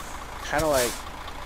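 In a truck driving video game, a big rig backs up with its trailer, giving a brief reversing beep and a short airy hiss, with a voice talking under it.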